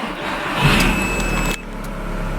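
An Audi TT engine revs up and falls back, sounding slow and lazy to climb, heard close and steady with a sharp drop partway through.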